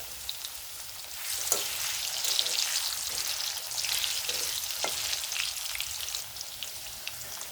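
Three potatoes frying in hot oil in a pan, a steady close sizzle that swells after the first second and holds, with a few light clicks of stirring and no voices.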